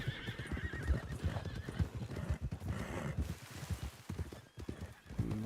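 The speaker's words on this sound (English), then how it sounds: "There is so many wild horses." Wild horses whinny and neigh repeatedly while hooves clip-clop in an uneven rhythm close by, the calls rising and falling over the steady hoofbeats.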